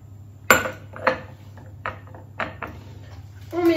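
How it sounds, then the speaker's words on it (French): A utensil knocks and scrapes against a bowl while courgette flan batter is mixed: a few separate clinks and taps spread out with pauses, close and moderately loud over a low hum. "On mélange de nouveau."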